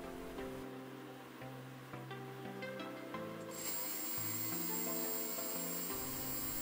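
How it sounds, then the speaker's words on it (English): A BLDC hub motor spins freely under a beginner controller learning board with cruise and reverse functions, giving a steady electric whine whose pitch steps up and down, with no talking. "the motor spins its own with throttle at free position"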